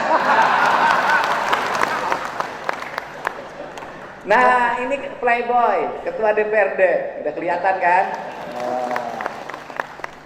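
Audience applause at a gathering of officials and village heads: an initial spell of clapping, then someone speaks loudly over a microphone as scattered crowd noise continues beneath his voice.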